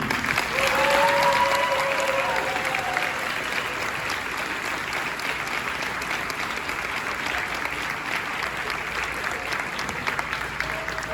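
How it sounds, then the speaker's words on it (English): Sustained applause from a school audience at an awards night honoring graduating students, a dense, steady wash of clapping throughout with a brief voice at the start. "Let's have another round of applause for these students."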